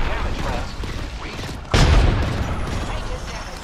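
Apex Legends gameplay with rapid gunfire and a deep grenade blast in the middle, loud and dense against a constant background of game noise.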